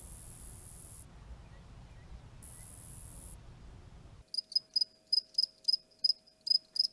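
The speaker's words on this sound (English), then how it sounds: "crickets rub their wings together" Crickets chirping by stridulation, rubbing their wings together: first a dense steady buzzing chorus that swells and drops, then a clear, close run of about ten sharp rhythmic chirps against quiet.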